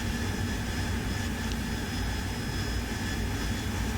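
Steady, loud jet engine roar of an AV-8B Harrier in the DCS World flight simulator, a constant broadband rush with a thin whine that holds unchanged throughout with no voices.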